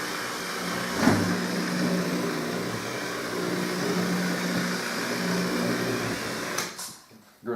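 Car paint polisher running on its lowest setting while fixing swirls and scratches, a steady close mechanical whir held for several seconds before it winds down and stops.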